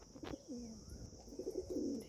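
Pigeons cooing softly in a loft, low repeated coos at a faint, moderate distance with light background noise.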